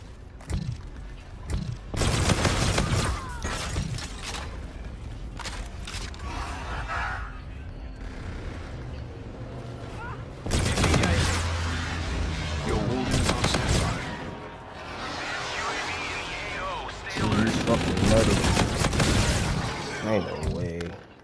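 Bursts of gunfire and heavy explosive strikes from Call of Duty: Infinite Warfare on PS5, loud clustered blasts around the start, middle and end with a rumbling game soundtrack and voices between them.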